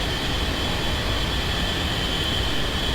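Steady, dense roar of an aircraft engine in the DCS flight simulator, loud and unbroken throughout, with a constant high whine running over the broadband rumble and no voices.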